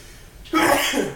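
A single sharp sneeze bursts out after a quiet moment, close and loud, trailing off briefly.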